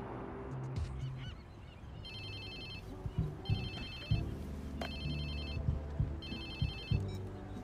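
Telephone ringing in the video game Watch Dogs 2, several evenly spaced electronic ring bursts repeating in a steady pattern over low game background rumble and thuds.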